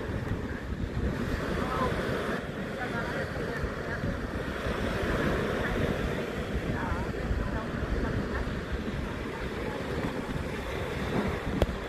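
Steady wind buffets the microphone with a low roar at Playa de Palma beach, mixed with a faint wash of surf in the background; no one speaks.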